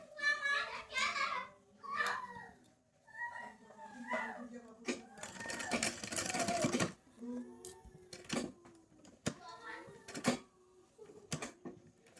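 Household sewing machine stitching folded ribbon onto embroidery in short bursts of rapid needle clatter, one loud sustained run in the middle, with someone talking throughout.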